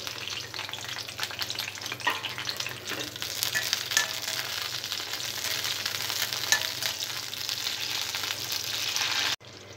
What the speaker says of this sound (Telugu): ఆయిల్ వేడిన తర్వాత పచ్చిమిరపకాయలు ఫ్రై చేసుకోవాలి.